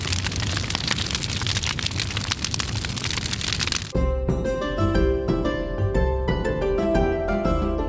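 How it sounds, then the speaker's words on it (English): A campfire crackles and hisses steadily with dense popping for about four seconds, then the fire gives way to soft, sustained musical tones. "Our fire burns bright"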